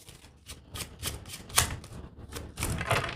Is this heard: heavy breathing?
no